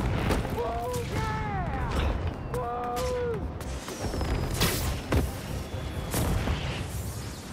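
Fireworks bursting over New York in Marvel's Spider-Man 2, with several sharp cracks and booms scattered through the scene, whistling streaks between them, and bursts of chatter mixed in.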